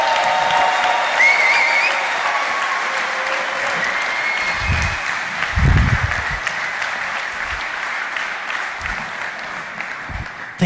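Applause from the audience at the WRO International Final 2022 robotics competition, a steady, dense wash of clapping from a large crowd that holds evenly for about ten seconds, with a few low thumps underneath.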